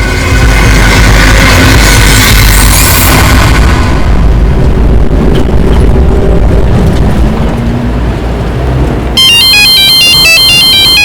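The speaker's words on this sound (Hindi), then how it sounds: "मैं आपको फोन उठा के देती हूँ" Heavy booming rumble fills the scene in a tense Mumbai crime drama, then a bright melodic telephone ringtone begins near the end and rings loudly over the lingering low noise.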